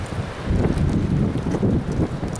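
Strong wind gusts roar steadily into an outdoor microphone as clouds race overhead, a continuous low buffeting rumble with no voices.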